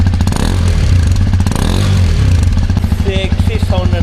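A Hero XPulse 210 motorcycle engine runs loud and close with steady, rough pulsing and surges of revving, while someone talks over it.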